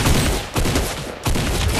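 Rapid bursts of gunfire in Fortnite, a dense fusillade of shots that runs almost continuously with brief dips in between, loud and close, with no talk over it.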